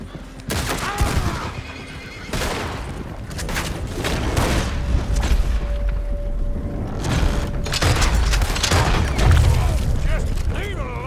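Gunfire aimed at a coach in Red Dead Redemption 2 pops in repeated sharp shots and booms, mixed with a horse whinnying and hooves, loud and continuous throughout.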